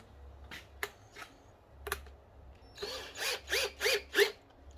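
A power drill runs in several short whirring bursts, then longer revving pulses, as short-head wood screws are driven in during a Rugged Ridge snorkel install. The sound is close and moderately loud, with no talk.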